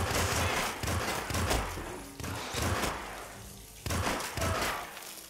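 Rapid bursts of gunfire in the video game Hitman, loud repeated shots in several clusters separated by brief pauses, with no talk.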